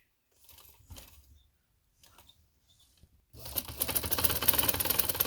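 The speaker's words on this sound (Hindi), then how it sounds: "इसके साथ साथ सिलाई लगानी है।" A sewing machine stitches lace along the edge of a shawl collar, running in short separate bursts at first and then in one loud, continuous rattling run close by, with no voices over it.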